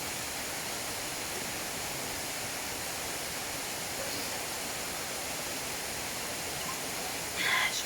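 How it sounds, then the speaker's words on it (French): A waterfall on Koh Samui gives off a steady, broad rush of falling water, even and continuous at moderate level, with a brief rustle near the end. "Je vous jure, c'est pas la première cascade là."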